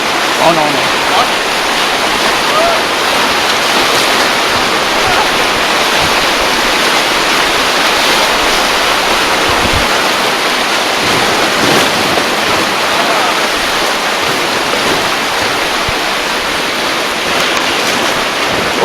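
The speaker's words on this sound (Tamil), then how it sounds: "கொஞ்சமா தண்ணி இருக்கிறதுக்கே இப்படி போகுது." Rushing river water on an adventure ride in Kullu roars steadily and loudly throughout, a dense broadband wash with some wind buffeting, close to the microphone.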